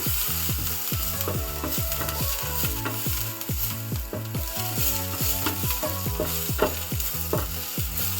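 Onions fry in a pan for Karnataka-style Kadale Usali, a loud, close, continuous sizzle with rhythmic stirring and scraping strokes throughout.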